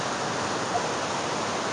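A waterfall roars as a steady, dense rush of falling water, heard from close by without pause and with no voices.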